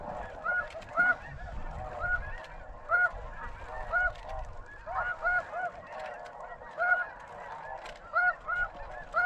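A large flock of snow geese honks continuously in a dense, overlapping chorus of calls with rhythmic surges, moderately distant and heard alone with no talk.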